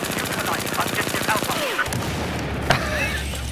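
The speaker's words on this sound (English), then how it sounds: "So many bullets." Rapid automatic gunfire from the MTAR-21 rifle in Battlefield 4's Flood Zone domination match rattles in a fast, dense burst, then stops, followed by a single sharp shot amid lingering game ambience.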